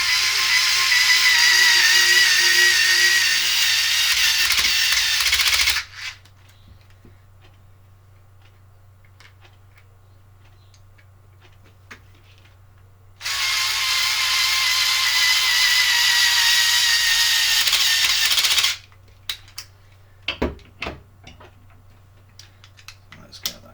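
Flathead screws are driven into the bulkhead of an Xray XT8E 22 RC car in two long, steady, loud whirring runs of several seconds each, separated by quiet, followed by a few small clicks and taps.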